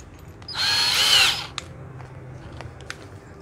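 A used Japanese cordless drill/screwdriver with two speed settings is run briefly in a test, whirring for about a second at close range before stopping, followed by faint small clicks and handling noise.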